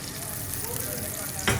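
Onion and garlic fry in a pan for mutton lapeta, giving a steady close sizzle throughout with a brief louder burst near the end.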